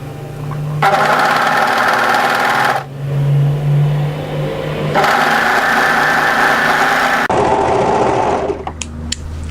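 An overlocker stitches a sleeve seam on a casual tee dress in loud bursts of steady whirring, starting, stopping and starting again, with a short clatter near the end.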